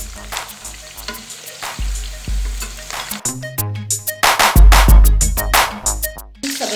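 Capsicum and green chillies crackle and sizzle in hot oil, with loud clattering stirs and utensil knocks in the pan, close and busy, no talking.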